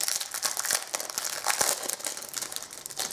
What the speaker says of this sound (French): c'est encore dans le petit plastique que je vais ouvrir